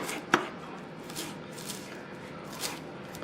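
A knife chopping parsley and cilantro on a board, quiet and close, with one sharp knock near the start followed by a few soft, sparse cuts.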